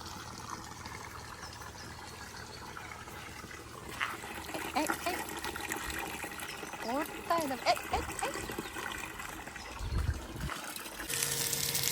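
Water pours and gushes steadily into a tank, splashing louder toward the end as it overflows, with people talking over it.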